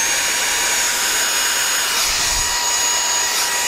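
A Mondzucker VX Mini cordless hand vacuum runs on its low power setting, giving a steady, high-pitched motor whine with an airy hiss, loud and close and unchanging throughout.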